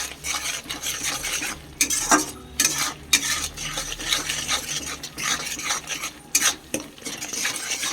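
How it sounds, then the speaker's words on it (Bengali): A spoon stirs masala around a pan for tilapia curry, giving irregular scraping and clattering bursts over a soft background sizzle, with brief quiet gaps between strokes. "এরকমভাবে ভালো করে নাড়তে হবে যাতে লেগে না যায় মশলাটা"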